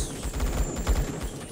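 Rapid gunfire from the Roblox first-person shooter Phantom Forces, a dense, continuous stream of overlapping shots and impacts lasting about a second and a half, fairly loud with no talking.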